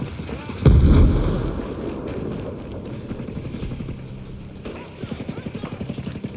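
A loud gunshot booms once in Tom Clancy's Ghost Recon Breakpoint, followed by a rumbling tail and later a rapid train of quieter shots, with speech mixed in beneath.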